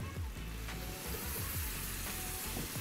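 Vegetable stock, about 1.5 liters, poured into a hot pan of toasting rice for a vegan paella, giving a loud, steady sizzle and bubbling hiss with low rumbling beneath.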